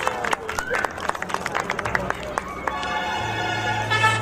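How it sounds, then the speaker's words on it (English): At a corporate annual function, an audience claps for the participants with sharp, scattered hand claps and crowd murmur. The claps thin out into a steadier background hum near the end. "to have a huge clapping sound for our participants who are present over here between us"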